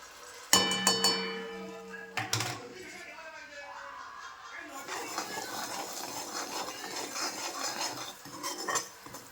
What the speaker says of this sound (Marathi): ते मिरची आणि धनिया पावडर पूर्ण फ्राय झालाय मस्त